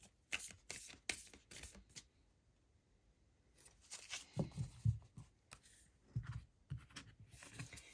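Moonology Oracle cards are shuffled in soft, quiet bursts of riffling and sliding, separated by brief pauses.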